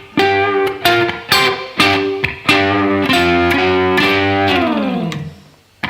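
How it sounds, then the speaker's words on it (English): A heavily distorted electric guitar plays the Mission Impossible theme lead, punchy picked notes in a driving rhythm that give way to a sustained, bending line, loud and close, with nothing else heard. "We'll crank the distortion up for that."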